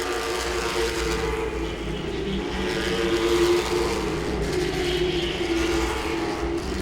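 Late model stock cars racing at Langley Speedway, a steady loud roar of several engines droning together at sustained high revs, continuous and fairly close with no clear pass-by peaks.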